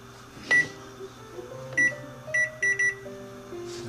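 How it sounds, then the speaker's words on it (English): A kitchen timer beeps as it is set for twenty minutes while plantains bake, giving a series of short, bright electronic beeps, first single, then a quick cluster of three near the end, against quiet kitchen hum. "And then set the timer for 20 minutes."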